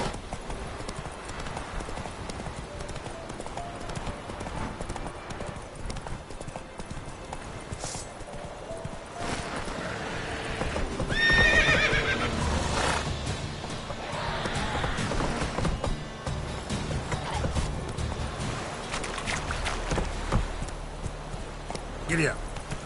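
Roach, a horse in The Witcher 3, clip-clops along in a steady rhythm of hooves and gives a neigh midway, with a voice speaking over the hoofbeats and background music.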